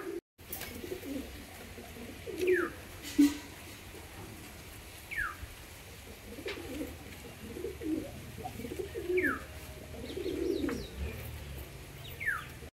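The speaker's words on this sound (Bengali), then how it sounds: "একজোড়া ফুলশিরা গিরিবাজ দেখুন, খাঁচা ছাড়ার সঙ্গে সঙ্গে ফুল গরম পায়রা" A pair of Giribaj pigeons coo softly and repeatedly just after release from their cage, with occasional higher chirps over a quiet background hum.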